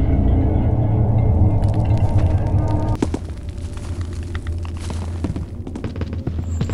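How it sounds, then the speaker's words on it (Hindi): Thunder cracking outside during a horror island video game: a loud, sustained rumble that drops off with a sharp crack midway, followed by lower, rolling booms and scattered thuds. "बाहर बिजली कड़क रही है"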